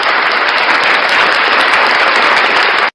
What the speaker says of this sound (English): Round of applause for Salacious